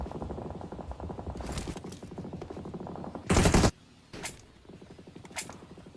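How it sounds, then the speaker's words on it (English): Gunfire in PUBG Mobile during a tournament match, a rattling burst of rapid shots followed by a few sharp louder cracks, with mechanical clatter in between. "although I do hear some gunshots"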